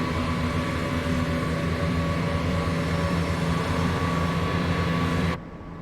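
Class 172 diesel multiple unit in Train Simulator 2021 running on the Reading to London line, giving a steady, continuous engine drone and rolling rumble with a constant level that cuts off abruptly near the end.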